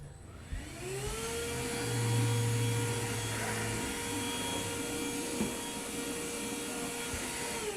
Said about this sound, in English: let me get a little vacuum